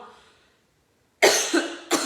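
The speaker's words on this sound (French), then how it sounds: "vous savez que quand je crie, je tousse" Two harsh coughs, close and loud, following a faint trailing voice and a brief silence.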